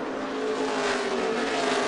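Race cars roar around the track at Richmond, a dense, loud, continuous engine drone with no break, heard close.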